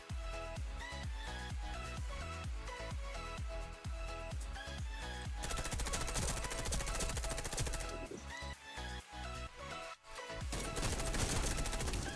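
Rapid bursts of automatic gunfire and single shots ring out in the online shooter game Warface, dense and loud throughout, with short pauses between volleys.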